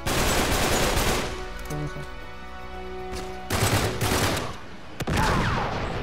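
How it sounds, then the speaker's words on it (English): Gunfire in the video game Uncharted 3 Drake's Deception rattles in loud rapid bursts, pausing briefly and then resuming, with a voice faintly underneath. "Who shot that? What? Bro, who's shooting?"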